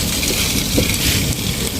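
Steady, loud rain from a heavy storm hisses continuously with a dense, even wash of noise and faint low rumbles, no voices.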